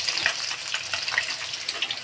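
Tilapia fish frying in hot oil, a steady bright sizzle with crackling pops and spatters throughout, close and continuous with no talking.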